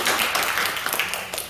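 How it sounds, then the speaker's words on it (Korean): A church congregation claps during a Sunday worship service to welcome a newlywed couple, dense, steady applause from many hands filling the room for a moment. "박수로 환영해 주시고 잘 오셨습니다"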